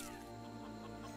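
Chickens in the World War II shooter Medal of Honor: Frontline cluck faintly, with soft, continuous murmuring under a low background hum and no talking.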